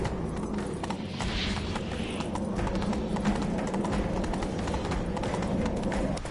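Rapid hoofbeats of a galloping horse in a video game drum steadily and loudly throughout, over a dense rumbling backdrop.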